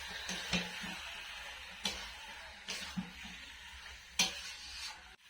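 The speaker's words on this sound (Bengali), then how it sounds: "এরপর মশলার সঙ্গে মাংসটা ভালোভাবে কষিয়ে নিই।" Meat and spices fry quietly in a pan, giving a faint sizzle punctuated by scattered soft clicks and scrapes as the mixture is stirred.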